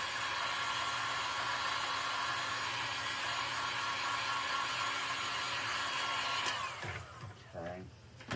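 Heat gun blowing steadily on a Dollar Tree wooden bunny craft, a loud continuous whooshing hum that cuts out near the end, followed by faint handling noises.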